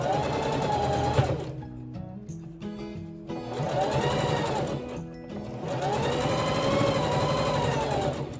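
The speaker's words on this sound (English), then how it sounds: "I go to the next one because we are chain sewing, chain stitching" A sewing machine runs in fast bursts while chain stitching a row of fabric face masks, whirring steadily for a few seconds, pausing briefly, then starting again twice, close and fairly loud with no talk.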